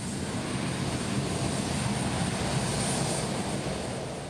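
A Hercules military transport plane comes in to land, its heavy propeller-engine roar steady and broad-band throughout, slowly easing off at the end, with no talking heard.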